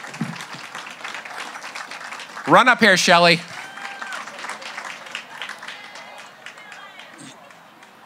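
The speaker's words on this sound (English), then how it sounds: "you got your own cheering section back there, Shelley" An audience at an environmental awards ceremony gives a short burst of applause and cheering for an honoree, rising over a speaker's voice on a microphone and fading quickly while he keeps talking.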